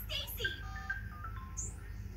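A phone's text message notification plays as a short series of bright electronic tones, moderately loud over a low steady hum, with brief talk in the background.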